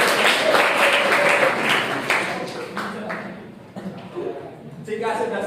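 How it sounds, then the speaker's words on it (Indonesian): Classroom applause during a teaching practice session in a guidance and counseling class, a burst of clapping from students for about three seconds that fades out, followed by voices talking. "beri tepuk tangan."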